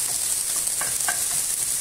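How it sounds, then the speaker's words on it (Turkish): Peppers roast in half a tea glass of olive oil in a pot, giving a steady sizzle with a few light stirring scrapes and no voices. "Bunlar da biraz kavrulsunlar."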